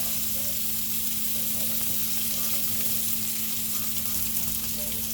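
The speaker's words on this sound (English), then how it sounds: "I'm going to dump the onions back in" Onions tipped back into a hot pan sizzle loudly and continuously with a steady hiss and some stirring, close up, no speech over it.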